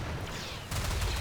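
Gunfire from a Rimworld battle rattles in a dense, continuous burst of overlapping shots, loud and crackling, growing heavier partway through.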